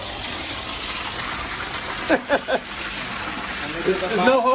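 Pool backwash water gushing out at a pool with a Hayward Summit heat pump, a steady broadband rush of flowing water throughout, with a few brief voice sounds partway through and near the end.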